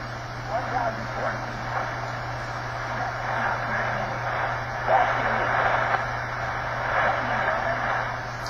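A shortwave AM broadcast is received on lower sideband through a synchronous detector, with a distant, band-limited voice over a steady hum and background noise.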